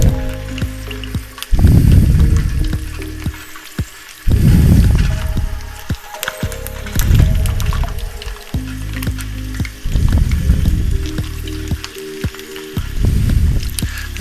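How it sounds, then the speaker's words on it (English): Garlic fries in a pan, a steady sizzle rising and falling in several loud bursts with brief quieter gaps between, close up and with no talking. "so I'm going to fry the garlic a little bit."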